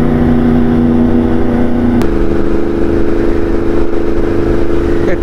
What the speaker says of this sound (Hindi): छोटी सी राइड थी, सोचा बाइक चला लूँ